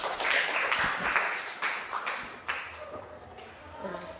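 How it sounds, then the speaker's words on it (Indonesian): A class of young schoolchildren claps together in a classroom, a dense burst of overlapping hand claps with scattered voices mixed in, fading into quieter chatter toward the end. "Tepuk tangan untuk kita semua"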